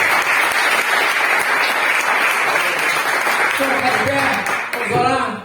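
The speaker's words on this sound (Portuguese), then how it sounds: "Você pode aplaudir ao Senhor por isso?" A church congregation applauds loudly and steadily throughout, with voices and a few shouts rising near the end over the dense clapping.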